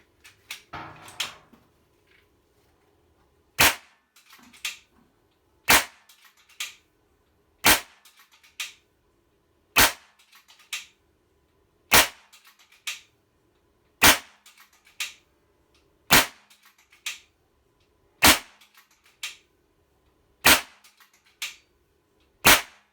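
A Kral Puncher Jumbo air rifle fires repeated sharp, loud shots at regular intervals of about two seconds, each followed by a fainter mechanical click, with near silence between shots.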